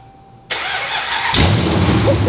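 A 2012 RAM 1500 pickup fitted with new 2-inch primary longtube headers cranks and fires up, settling into a loud, raw idle close by, its rumble swelling sharply a second after the start.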